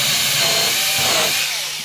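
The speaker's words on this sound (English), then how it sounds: "So I'm just going to drill through the template into a piece of sacrificial wood" A power drill bores through a template into a piece of sacrificial wood while building a Les Paul Junior style guitar, giving a loud, close, continuous hissing whir that tails off slightly at the end.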